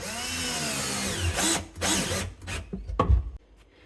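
Power drill driving screws to mount an undersink water filter housing, with a few short bursts of whirring and ratcheting, close and fairly quiet, with pauses between.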